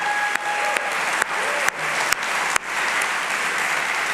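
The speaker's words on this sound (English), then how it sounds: "So I'd like us to give them a round of applause." An audience at the Kofi Annan NextGen Democracy Prize ceremony gives a round of applause, a continuous wash of clapping with a few sharp louder claps standing out at intervals.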